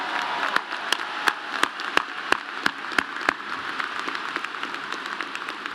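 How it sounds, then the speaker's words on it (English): A large graduation ceremony audience applauds, dense clapping spread through a big space with sharper individual claps standing out near the front, steady and fairly loud before thinning out. "will you please give a loud round of applause to Ansley"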